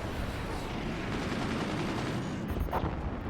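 Gunners firing in the RTS game Forts, a dense, continuous rattle of rapid gunfire and booming impacts running without a break, with a brief sharper burst near the end; no talking.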